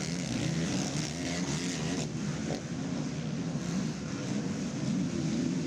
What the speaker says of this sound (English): A pair of Yamahas duking it out.